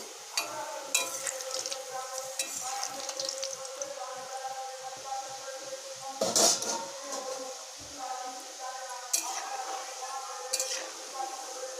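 Sesame naru fries in medium-hot oil with a steady sizzle, while utensils scrape and clink against the pan in repeated stirring strokes, close and fairly prominent.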